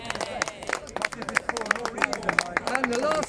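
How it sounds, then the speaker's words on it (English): Scattered clapping from an outdoor crowd at Speakers Corner in London, a patter of hand claps mixed with voices and cheers. "a quick round of applause for all the people taking down the cameras"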